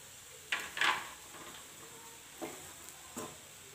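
Bhagar being stirred in a pan with crushed peanuts and salt, a few short scraping strokes of a spoon against the pan, fairly faint, separated by quiet pauses.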